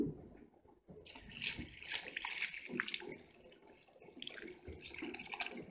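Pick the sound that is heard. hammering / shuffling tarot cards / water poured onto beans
water poured onto beans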